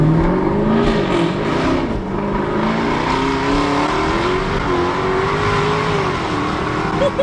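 A 550-horsepower Jaguar sports car engine revs and accelerates hard, its loud, rising and falling roar shifting pitch through the gears, close and sustained, with tire noise underneath.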